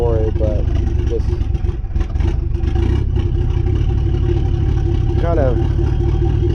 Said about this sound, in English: The truck is super loud and you can't take a nice drive with it anyway